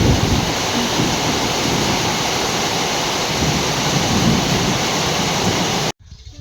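Heavy rain pouring over flooded rice fields in the early morning, a dense, loud, unbroken roar of falling water that cuts off abruptly near the end, leaving faint background sound.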